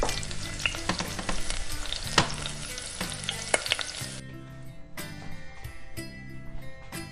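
Bread sizzles on a hot grill while pressed down for smoky charred marks, a close crackling hiss with sharp pops and a few quieter pauses.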